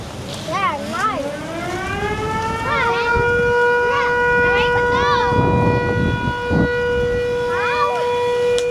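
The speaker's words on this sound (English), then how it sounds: "you can hear the siren for a second time. That means that the plane is about to touch down." Airport warning siren in Tuvalu sounding before a plane touches down, a loud wailing tone that swells up and holds steady with rising and falling sweeps, heard outdoors with wind noise and brief background voices.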